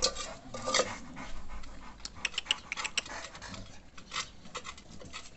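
A dog pants in quick, soft, irregular breaths at close range, joined by light clicking and ticking sounds, with no talking.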